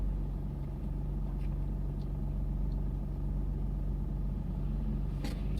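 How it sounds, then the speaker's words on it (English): A manual car's engine hums at a steady low rumble from inside the cabin while the driver shifts down into first gear, continuous and moderately quiet with no talking. "it's worth going into second gear and then gearing back down into first gear like I am doing now"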